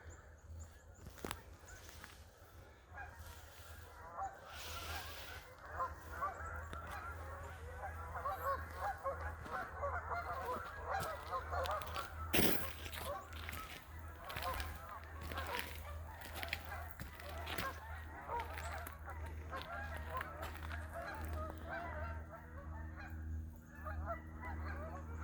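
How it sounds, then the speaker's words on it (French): A flock of geese honks continuously at dusk from a moderate distance in Yamaska National Park, many overlapping calls over a low outdoor rumble, with a brief voice in the background. "Il y a plein d'oies, des canards."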